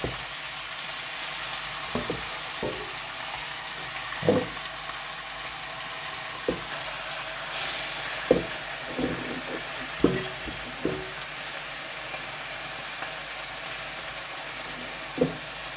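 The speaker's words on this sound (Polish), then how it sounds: "i będziemy to sobie smażyć" Lamb cracklings sizzle and fry steadily in a pan, with a constant broadband crackle broken by intermittent scraping knocks of stirring every second or two, close and moderately loud, no talking.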